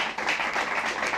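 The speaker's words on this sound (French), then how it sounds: "Je vous demanderai d'applaudir eh bien, tous les gens qui sont avec nous sur ce plateau" A studio audience on a French television set applauds, a brief dense burst of clapping at moderate level with no talking.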